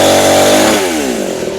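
Chainsaw running loud and close, its engine pitch dropping as it winds down from high revs over a second or two.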